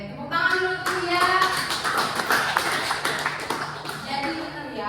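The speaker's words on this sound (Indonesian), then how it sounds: "Oke, tepuk tangan dulu tuh ya." Students in an Indonesian classroom clap hands together, a close, dense patter of many claps lasting several seconds amid voices and chatter.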